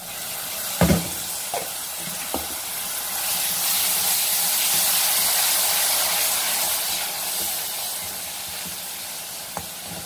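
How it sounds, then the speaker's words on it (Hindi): Ground tomato and green chili paste goes into a hot pan while making spinach dal. A few soft knocks come first, then a steady hiss of sizzling and steam that swells and lingers. "अब इसमें ऐड करेंगे हम पिसा हुआ टमाटर और हरी मिर्च जो हमने पीस के रखे हुए हैं।"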